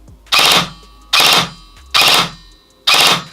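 Four short loud bursts of full-auto fire from a G&G TR16 MBR .308 SR airsoft rifle, each burst a rapid crackling rattle roughly a second apart, close and alone with no talk.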